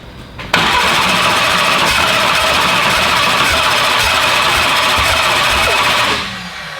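A car engine cranks briefly, then catches on its first fire-up and settles into a loud, steady idle for several seconds before the sound tails off near the end.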